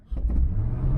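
A Chevrolet squarebody truck engine with a carburetor idles loud and close, then picks up into a sustained rumbling rev with steady low-end throb.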